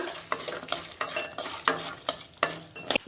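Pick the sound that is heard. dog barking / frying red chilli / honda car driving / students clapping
frying red chilli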